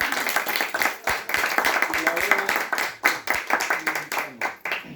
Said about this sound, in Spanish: Muy bien, bueno, un aplauso.